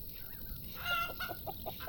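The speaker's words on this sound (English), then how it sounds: "Scare the birds which are destroying your field." Birds flocking over a crop field in Farm Manager 2018, a short run of clucking, chicken-like calls rising over a steady background hum, moderately close and without speech.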